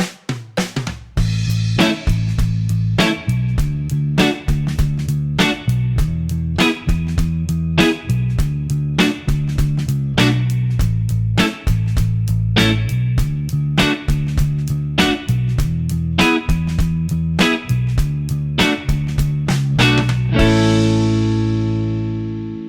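Motown-style rhythm guitar plays short, crisp strummed chords accenting beats 2 and 4 over a full backing track, a steady repeating pulse of sharp attacks lasting throughout and ringing out at the end, with no talking.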